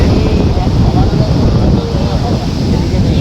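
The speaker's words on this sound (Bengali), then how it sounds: "হাওয়া চালাচ্ছে কি হাওয়া চালাচ্ছে" Wind blowing steadily across a seashore where people sit on chairs facing the sea, a continuous loud buffeting rumble and hiss striking the microphone throughout.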